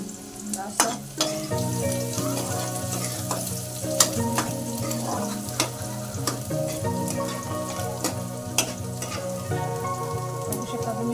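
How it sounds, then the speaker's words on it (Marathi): Finely chopped onion, garlic and green chili sizzle steadily in a hot pan while a spoon stirs and scrapes at intervals, crackling close and continuous with no voices. "आता मी त्याच्यामध्ये बारीक चॉप केलेला कांदा,"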